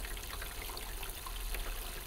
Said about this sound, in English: See right here, I keep on pouring.